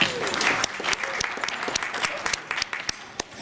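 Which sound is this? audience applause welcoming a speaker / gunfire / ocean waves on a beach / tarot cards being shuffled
audience applause welcoming a speaker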